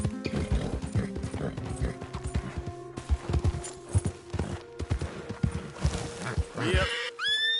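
A horse clip-clops steadily at a walking pace close by, hooves knocking in a continuous rhythm. A whinny sounds near the end, and a rider's voice calls out intermittently.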